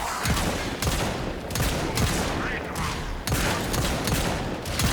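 Rapid weapon fire in the sci-fi shooter Warframe, on Steel Path, crackles in dense repeated bursts throughout, loud and close, with brief pauses between volleys and faint talk beneath.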